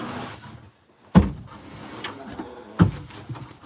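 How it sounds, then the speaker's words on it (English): A door on a homestead pulled shut in two separate solid thuds, close, with faint rustling around them and no talking. "I need to just give this a little bit of a pull back so that the door closes nice."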